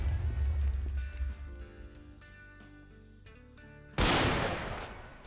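A single loud bolt-action rifle shot in Minecraft (Manufactio modpack) bursts out sharply over quieter background game music, then decays.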